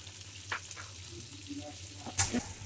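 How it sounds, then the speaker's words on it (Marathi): Mackerel frying on a hot griddle in a Konkani home kitchen gives a soft, steady sizzle with a few light clinks and pops, fairly faint and close. "आता मम्मीने तव्यावर हे बांगडे पण असे टाकलेत मस्त फ्राय व्हायला."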